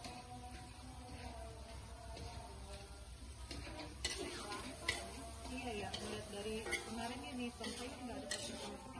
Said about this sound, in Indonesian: Ini aku lagi masak sambal kentangnya buat bikin sayur godong